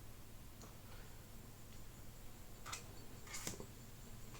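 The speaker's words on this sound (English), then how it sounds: "If you hear it ticking, it's a boatman that entered my sample." Faint, sparse clicks tick from a water boatman that has wandered into a freshwater microscope sample, with a few sharper ticks near the end over a quiet hiss.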